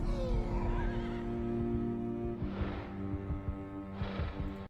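Horses whinny loudly in a drawn-out neigh, followed by further bursts of horse noise over a steady musical background, with no speech.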